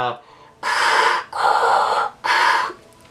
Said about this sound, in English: the breathing noises inside that mask, very creepy